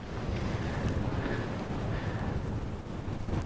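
Strong wind blows across an abandoned mining camp in the Nevada desert, a dense, steady roar with gusty low rumble and buffeting against the microphone, loud and close throughout with no voices.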